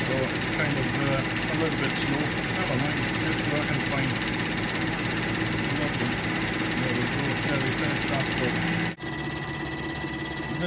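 A Tormach PCNC 1100 mill takes a facing pass on a Kress spindle adaptor with a steady, dense machining drone and whine that runs continuously, with a brief dip near the end, while a person talks over it.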